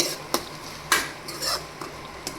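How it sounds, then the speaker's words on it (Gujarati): Chopped tomato being stirred into vegetables in a pan, with sharp spoon scrapes and clatters against the metal over a faint sizzle, close and without speech. "આપણે આ એક ટમેટું સુધારીને રાખ્યું છે એને તેમાં એડ કરી દઈશું અને હલાવીને મિક્સ કરી લેશું"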